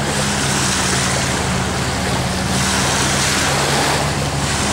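Choppy lake water washes and slaps continuously against a 2012 Veranda 2275F4 pontoon boat hull, mixed with a steady drone from its 115 motor and wind buffeting the microphone.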